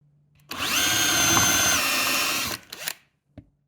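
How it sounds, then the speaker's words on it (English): A power drill with a size 13 wood bit whines steadily for about two seconds at close range, drilling off plastic rivet heads on a BMW E46 M3 door card, then stops, followed by brief clicks and a short knock. "only drill enough to take the top of the head off"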